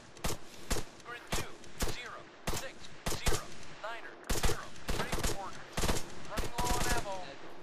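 Arma III sniper and rifle fire in a combat scene: a rapid, irregular series of sharp, loud gunshots, close and echoing, with voices now and then underneath.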